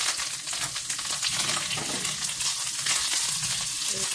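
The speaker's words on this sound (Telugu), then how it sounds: "ఎండుమిర్చి, పచ్చిమిర్చి వేసుకొని వీటిని కూడా ఫ్రై చేసుకుందాం" Dried red chillies, green chillies and curry leaves fry in hot oil after mustard seeds have spluttered. A loud, steady crackling sizzle runs throughout, close and unbroken.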